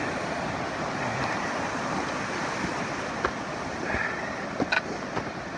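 Steady broadband rush of flowing water from Perry Creek at a hiking crossing near a meadow, continuous and fairly close, with a few small knocks and clicks over it.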